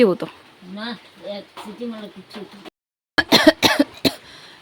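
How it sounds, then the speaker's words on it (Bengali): A person in a home kitchen coughs in a short cluster of sharp bursts right after talking, with speech before the coughs. "কাশি"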